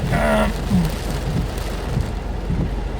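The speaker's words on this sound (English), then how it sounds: "It's a fast-moving storm." A fast-moving summer storm sends heavy rain drumming down alongside rolling thunder, a loud, dense wash of rainfall with low rumbles beneath it and no talking.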